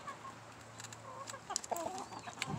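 Several chickens cluck softly in a backyard coop in the morning, short close murmuring clucks and calls overlapping over a quiet background hum.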